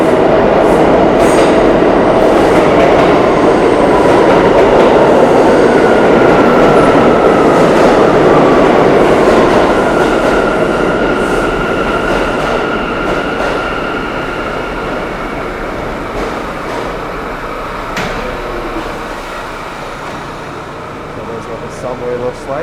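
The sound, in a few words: R179 A train subway arriving, New York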